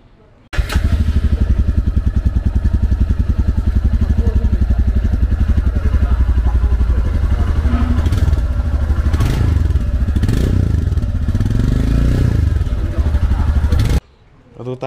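A 2023 Royal Enfield Himalayan motorcycle engine idles and revs close by with a loud, steady exhaust rumble, a few rises in pitch, then cuts off abruptly near the end.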